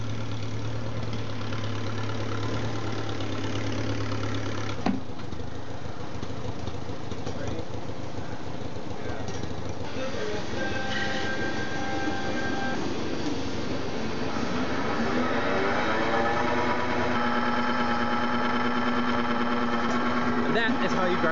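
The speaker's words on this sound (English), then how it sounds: "That is how you grind grain with a tractor." A tractor engine drones steadily as it runs a grain grinder, continuous grinding noise, loud and close, its pitch shifting partway through.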